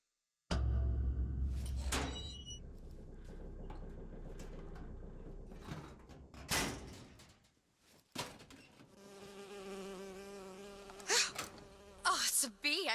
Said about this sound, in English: Oh, it's a bee. I hate these things